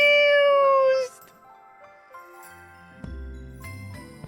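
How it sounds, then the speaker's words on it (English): A pet cat meows a couple of times at close range during the first second, a high drawn-out cry, followed by a faint jingle and the sounds of a room. "Rosie, look at your cute kitty. Look, the kitty is so confused."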